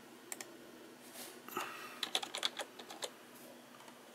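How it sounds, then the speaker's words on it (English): Quiet keystrokes as a PIN code is typed on a keyboard, a short irregular run of clicks close to the microphone with small pauses between them. "Just typing in the same pin code"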